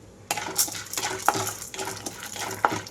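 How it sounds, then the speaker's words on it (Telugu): Peanuts and roasted gram roast over low heat with cumin in a dry pan while a utensil stirs them, making repeated dry scraping, rattling and clinking sounds in close, uneven strokes. "ఇక్కడ నేను జీలకర్ర వేసిన తర్వాత పల్లీలు వేయించుకుంటున్నాను"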